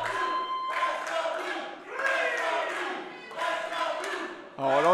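Crowd at a live wrestling event cheering and chanting in rising and falling waves, with clear chanting voices and a few claps, fairly close and loud with no single dominant voice.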